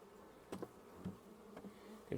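Honeybees buzz in short passes near the microphone at a hive, a few louder swells rising over a steady low hum.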